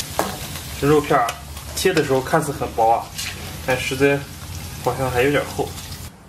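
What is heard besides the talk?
stirring sliced pork apart in a hot wok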